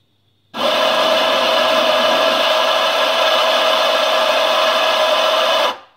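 An Anfim Super Caimano espresso grinder with a built-in scale grinds coffee for about five seconds. The motor gives a steady, loud whirring drone that starts abruptly and stops cleanly.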